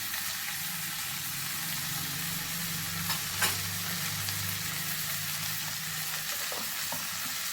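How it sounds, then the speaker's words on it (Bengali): Raw green peas sautéing with spices, salt and a little chili powder in oil in a pan, a steady close sizzle with stirring scrapes throughout. "ভালো করে এটাকে মশলার সাথে ভালো করে কষিয়ে নেব"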